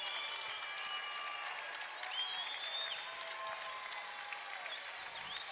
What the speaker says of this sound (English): The crowd clapping and listen to it with 10 to go.